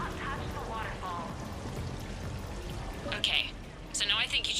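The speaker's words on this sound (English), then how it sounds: "Please do not touch the waterfall" A waterfall in Mass Effect 3 pours steadily beneath a person talking, with bright splashing bursts rising near the end.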